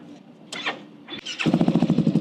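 A Yamaha XMAX scooter engine cranks with a few whirring bursts, then catches and settles into a throbbing, pulsing idle, heard up close.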